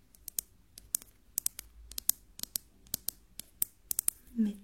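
Quiet ASMR ear test with a metal object: a series of sharp, irregular clicking taps close to the microphone, bright and crisp, with a soft vocal murmur at the end.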